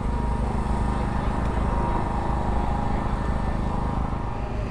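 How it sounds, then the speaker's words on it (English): Steady droning engine hum, like a generator running nearby at a car show, holding constant and loud throughout with no clear speech over it. "Sorry about the background noise, the generator."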